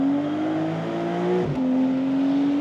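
A Porsche 911 992.2 Carrera, the base model, driven hard on a race track, its engine holding a steady loud drone, then briefly dipping and climbing again as the throttle shifts, with no voices over it.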